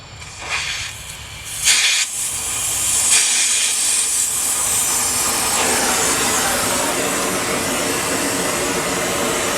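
A torch hisses with a steady, loud rush of gas after a couple of short bursts at the start, then holds a constant, even hiss to the end.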